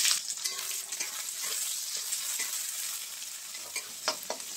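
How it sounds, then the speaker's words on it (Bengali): Garlic, onion and torn chillies frying in hot oil for a village-style Bengali dish, a steady close sizzle with occasional stirring scrapes and no voices. "কিছু রসুন দিয়ে দিলাম ফোড়ন, একটা পেঁয়াজ আর দুটো লঙ্কাগুলো আমি ছিঁড়ে নিয়েছি।"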